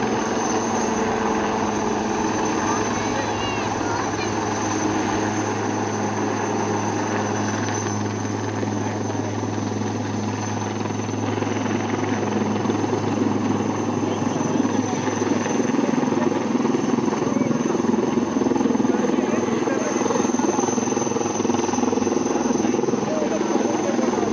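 An Indian Navy helicopter thrums loudly and steadily nearby over the water at the Gateway of India, Mumbai, its rotor drone constant under a wash of wind and engine noise.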